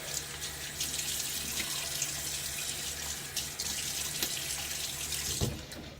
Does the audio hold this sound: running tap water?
yes